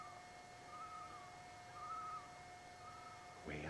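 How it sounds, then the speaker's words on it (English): Loons calling far out on a lake, two faint drawn-out wavering calls over quiet outdoor background, with a brief harsher sound at the very end. "Now you can hear the loons."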